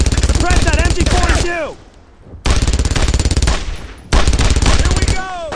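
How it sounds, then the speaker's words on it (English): An MG42 machine gun in a Brothers in Arms World War II game rattles out three long, rapid bursts, loud and close, separated by brief pauses with lingering echo between them. "Suppress that MG42!"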